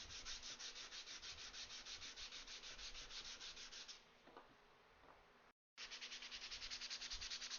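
Sandpaper roughing up a wooden gluing surface during final assembly, a steady rapid back-and-forth scratching that runs continuously, pauses briefly, then resumes close and fairly loud with no talking.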